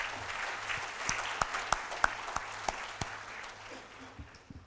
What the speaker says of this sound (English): So give them all a round of applause, please.